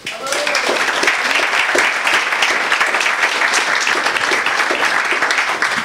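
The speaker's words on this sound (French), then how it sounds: "je vous invite à monter sur scène et à les applaudir très fort." Event audience at a startup meetup in Nantes applauding speakers on stage, a loud, dense and sustained round of clapping with voices mixed underneath.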